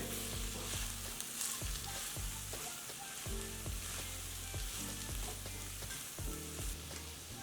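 Drumstick masala, nuggekayi palya, sizzles softly over a low flame as jaggery is mixed in, a quiet, even frying hiss with faint stirring and no one speaking.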